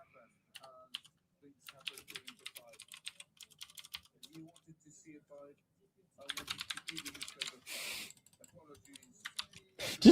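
Typing on a computer keyboard during a live fight-companion stream: quick irregular bursts of key clicks, fairly quiet, with talk between them and a brief louder burst near the end.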